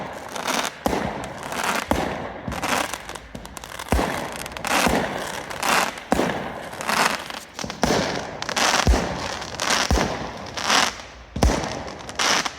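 New Year fireworks explode in a rapid, irregular string of sharp bangs and crackles, loud and fairly close, with bursts overlapping and echoing throughout and no voices.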